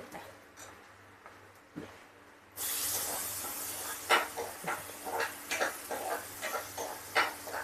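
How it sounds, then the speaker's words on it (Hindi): Chopped onions tipped into a hot pan of oil and browned garlic: after a quiet stretch a sudden loud hissing sizzle bursts in, then keeps frying steadily with repeated crackling pops and spits. "अब हम प्याज डाल देते हैं।"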